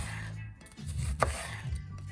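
Knife slicing food on a wooden cutting board at an unhurried pace, steady close scraping strokes with one crisper cut in the middle and no talk.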